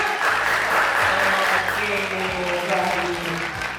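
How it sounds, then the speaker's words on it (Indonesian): An audience at an MC school session claps for everyone, a short burst of applause with a voice and some tonal sound running underneath it. "Tepuk tangan buat semuanya"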